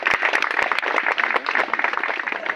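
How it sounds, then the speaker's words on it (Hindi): An audience at a village welcoming ceremony for a chief guest bursts into applause, dense overlapping claps at a steady, lively level with sharp individual hand strikes standing out. "आप तो ताली बजाइए।"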